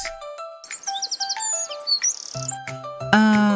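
Birds chirp and tweet in quick, bright bursts, a flurry of calls layered over steady chime-like tones, with a fuller, louder tonal swell near the end. No one speaks.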